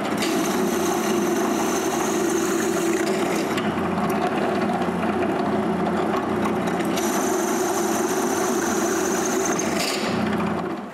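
A drill boring half-inch holes in pounded wooden inserts on a tool cart build runs with a steady mechanical whir and grinding, its pitch shifting as the bit bites and eases, loud and continuous without talk.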